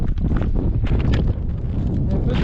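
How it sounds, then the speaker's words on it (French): Wind blowing across a mountain ridge near the Col des Têtes, buffeting the microphone with loud, continuous, rumbling gusts close at hand. "Un peu de vent."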